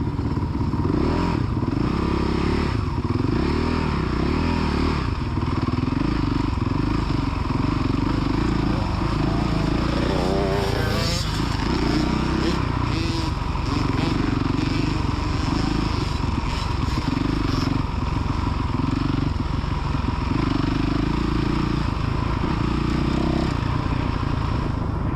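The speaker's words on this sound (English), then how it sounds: "rev it up. Rev it up." A motocross dirt bike engine revs continuously on a youth MX main track, loud and close, with a steady droning roar and a slight rise in pitch midway, accompanied by faint clattering.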